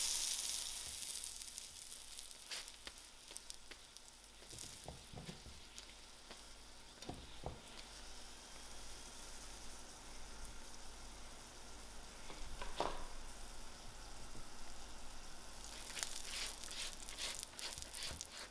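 A pea-stuffed paratha fries on a griddle in an oil and margarine mixture, giving a steady close sizzle with occasional crackles and light scraping sounds, continuous and without speech.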